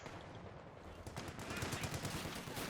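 Light machine guns rattle in a rapid, sustained burst during a 1v1 battle in the strategy game Company of Heroes 2, the fire swelling toward the end over a busy battlefield backdrop.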